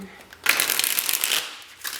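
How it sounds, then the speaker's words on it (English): A deck of tarot cards is riffled in one close, crisp shuffle, a loud burst of rapid flicking that trails off into a few lighter taps. "One more shuffle."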